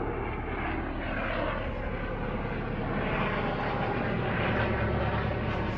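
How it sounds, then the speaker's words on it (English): Ambulance helicopter passing overhead, a steady, loud engine and rotor drone that fills the whole moment without a break and swells slightly toward the end. "That's the ambulance chopper"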